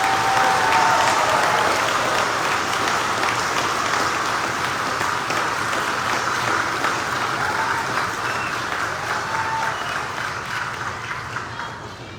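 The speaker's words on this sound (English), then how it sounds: "Please give all these cadets a round of applause." Sustained round of applause from an audience at a JROTC cadet leadership camp graduation ceremony in Orangeburg, South Carolina, steady and dense clapping that slowly tapers near the end.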